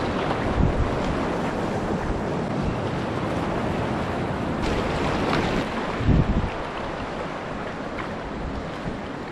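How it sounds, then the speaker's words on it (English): White water rapids rush steadily through an Arctic slot canyon, a loud, continuous roar with wind buffeting the microphone and no voices. "that is some good white water"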